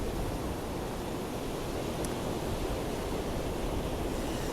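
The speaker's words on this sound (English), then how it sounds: "Isn't the sea noisy?" Sea waves wash under Blackpool pier on the seafront, a steady broadband roar of surf and splashing with some wind, continuous and fairly loud with no voices.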